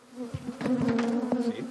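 Honey bees hum with a steady, close buzz while a swarm and its cut combs are moved into hive frames held with elastic bands. Soft handling knocks sound beneath the drone.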